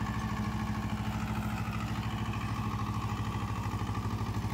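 A three-year-old Sonalika Baagvan DI-30 tractor, 30 HP, runs steadily at close range, its diesel engine thumping in a fast, even rhythm with a rough clattering tone and no voices over it.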